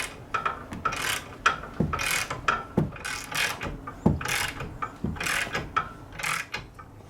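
A new rear ball joint is pressed into a BMW E39 suspension, producing steady grinding, creaking mechanical noise with repeated ratcheting clicks and knocks at a close, moderate level, without speech.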